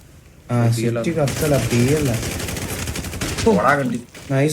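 Rapid bursts of video game gunfire crackle beneath a man's loud, excited talking, the shots rattling in quick repeated volleys.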